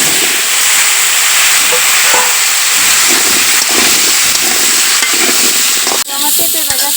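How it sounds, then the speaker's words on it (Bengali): Papaya pieces fry in oil with a loud, close, crackling sizzle and steam hiss, broken by a few stirring clinks near the end. No one speaks. "পেঁপেগুলো একটু ভাজে নিবে।"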